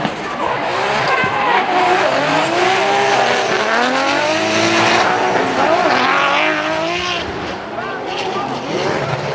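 Drift cars, a Toyota GR86 and a BMW, battling at Sportsland Sugo in Miyagi, with loud sustained tire squeal and revving engines under steady commentary.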